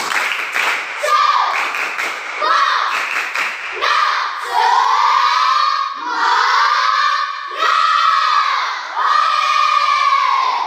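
A class of schoolchildren performs the 'tepuk semangat' chant, shouting rhythmic phrases in unison with bursts of clapping, loud and close, repeated over several cycles.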